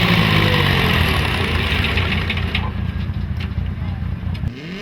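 Diesel pulling tractor with a smoky, worn-out engine runs at a tractor pull, a loud, steady low rumble with broadband roar throughout, fading slightly toward the end, with background crowd noise.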